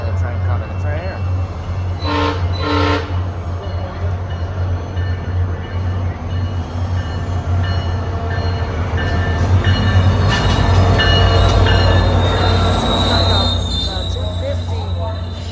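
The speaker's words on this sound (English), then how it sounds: "Another train coming. It's right here." A train rumbles past nearby with screeching wheel squeal and a couple of short horn toots, the noise swelling as it passes.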